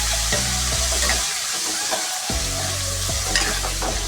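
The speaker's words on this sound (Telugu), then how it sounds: "ఇది ఆయిల్లో బాగా ఫ్రై కావాలి" Small-cut brinjal pieces frying in hot oil in a home kitchen, a busy sizzle with repeated scraping knocks from a spoon stirring through the pan, plus a brief lull midway.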